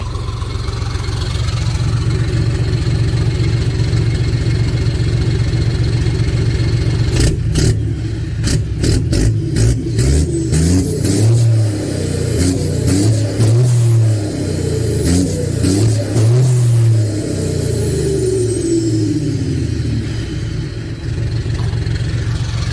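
Thai pickup-style car with a modified aftermarket exhaust, idling low and rumbling, then blipped through a series of sharp revs that rise and fall before settling back to a steady idle, loud and close.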